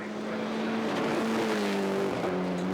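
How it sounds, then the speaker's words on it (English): A rally car racing downhill on a sprint stage at the Ashley Rally Sprint 2003, its engine note loud and rising and falling through gear changes as it passes close, with a faint tire squeal. "The Anderson Transport sponsored car on his way downhill now"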